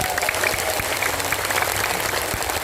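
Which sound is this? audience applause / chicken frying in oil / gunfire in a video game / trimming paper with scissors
audience applause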